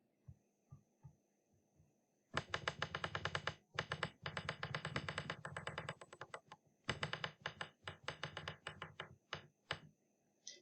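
Eraser rubbing across a classroom board: bursts of brisk scrubbing strokes in quick back-and-forth rhythm, close and fairly faint, with short pauses between passes and a low steady hum underneath.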